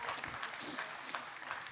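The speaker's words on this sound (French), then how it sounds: "Oui, voilà, quelques applaudissements." Audience at a workplace safety and health innovation conference gives a modest, fairly faint round of applause, steady scattered clapping throughout.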